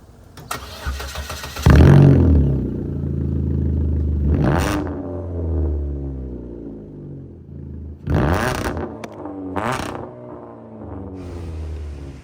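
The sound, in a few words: loud straight-piped car exhaust, Rob Dyrdek's kick flipping car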